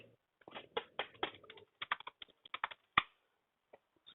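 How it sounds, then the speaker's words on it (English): A command is typed on a computer keyboard as a close, clear run of irregular key clicks, then a few scattered taps at the end. "Now just type Docker node ls."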